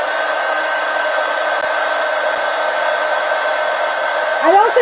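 A hair dryer blows steadily and close over wet watercolor paper, a constant whooshing drone throughout, with a brief shift in pitch near the end.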